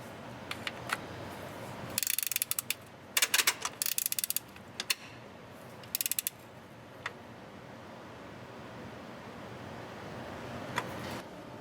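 A ratchet wrench tightening the bolt on a C2 Corvette shifter, heard as quick clicking bursts and isolated ticks over a low steady hum, close and fairly quiet.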